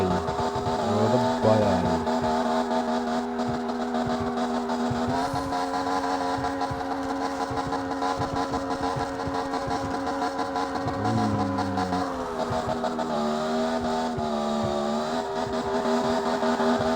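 Nissan GT-R R35 in the CarX Street racing game, its engine droning loud and steady with pitch swells as it revs and shifts, continuous throughout with no talking.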